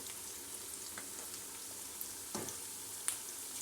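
Half a spoon of ginger-garlic paste frying in oil, producing a soft, even sizzle and hiss with an occasional faint tap of a utensil, fairly quiet and without speech.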